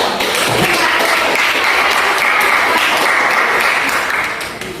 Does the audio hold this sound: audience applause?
yes